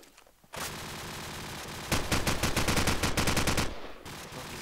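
Loud, rapid bursts of automatic rifle fire in Counter-Strike during a professional EMS IX match between Fragmasters and imex, rattling in a dense rhythmic volley over steady game ambience, with a few sharp shots before the main burst.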